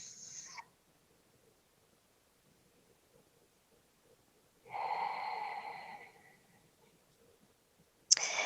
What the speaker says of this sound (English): Breath smooth and steady, listening to that sound of your breath.